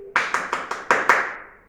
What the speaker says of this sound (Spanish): cuando aplaudimos suena así